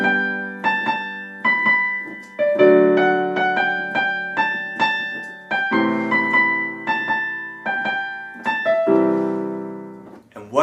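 Solo piano playing an easy arrangement of a song, melody over sustained chords, notes struck in a steady flowing rhythm, close and clear with no voices.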